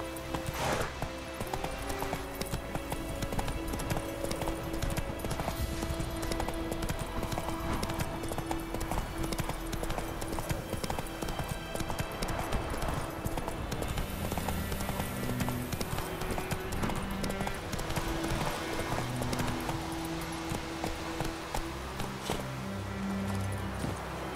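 A horse gallops in The Witcher 3: constant rhythmic hoofbeats under game music, with occasional faint snorts and no clear speech.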